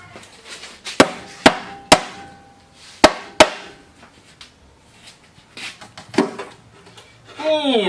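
Several sharp, loud knocks from a rubber mallet striking an old Toyota engine's sump ring out one at a time amid workshop clatter and a voice, heavy thuds with a short metallic ring.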